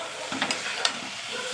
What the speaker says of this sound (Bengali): এটা শুকিয়ে নেবো নেড়ে নেড়ে